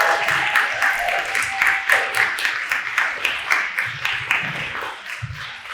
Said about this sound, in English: If we can have another big round of applause.